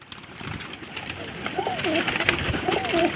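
A golden pigeon coos in two soft, rolling phrases over a busy background of noise and nearby murmuring.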